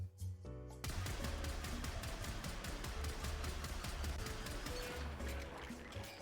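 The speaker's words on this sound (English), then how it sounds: "when I fire this gun, the recoil animation sends the gun sprawling into the air" Rapid automatic gunfire from a gun in the video game Warframe, a dense steady stream of loud sharp shots lasting several seconds after a brief quiet start, close and unbroken with no talk.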